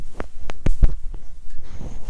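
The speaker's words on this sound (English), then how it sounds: "I'm going to adjust my mic here." Close, muffled thumps and bumps of handling against a microphone, several irregular knocks with low rumbling in between.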